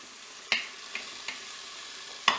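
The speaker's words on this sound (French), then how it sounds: "Je mélange." Chicken with paprika stirred in a Cookeo pot, soft sizzling under a few distinct scraping knocks of a spoon against the pot, one near the start and a sharper one at the end.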